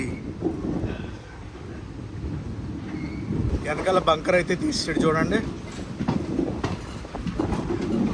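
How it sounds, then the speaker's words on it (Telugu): A passenger train leaves Sengottai on the Kollam–Sengottai line, with steady wheel rumble and clatter carried by wind noise throughout, a louder stretch of rattling metal in the middle, and someone talking over it. "మా ట్రైన్ అయితే ఇప్పుడే సెంకోటై నుంచి బయలుదేరింది."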